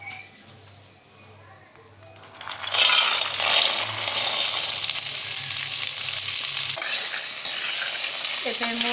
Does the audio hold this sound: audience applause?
no